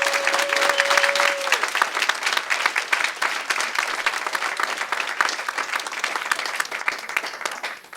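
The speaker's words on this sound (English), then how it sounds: "giving them a big round of applause for all the great activism they've engaged in" A crowd of about 75 people at an activism event applauds in a dense, sustained burst of clapping that continues steadily throughout and tapers slightly at the end, with no talking over it.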